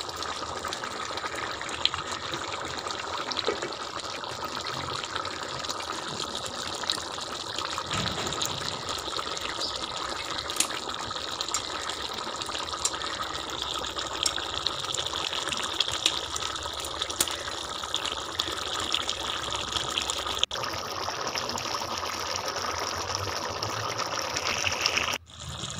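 Water pours into a cooking masala in a continuous steady gush with a bright splashing hiss, unbroken for most of the time before stopping abruptly at the end.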